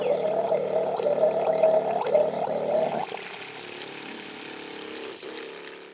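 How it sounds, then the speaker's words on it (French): A solar-powered self-priming diaphragm water pump runs with a steady watery whir and gurgle, louder for three seconds then dropping to a quieter constant flow. "Celle-ci fonctionne avec une membrane qui va pomper l'eau"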